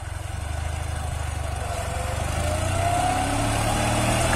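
A KMZ T-012 mini tractor with a factory blade, clearing snow, runs steadily up close with a continuous throbbing engine note that rises slightly partway through.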